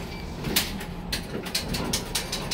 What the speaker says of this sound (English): Watch the door.